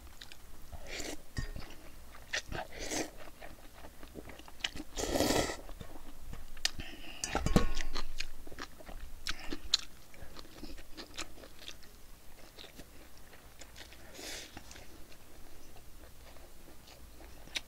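Someone eating bibim-guksu, spicy Korean cold mixed noodles, with scattered close, soft chewing and biting sounds and occasional louder slurping bursts at an uneven pace.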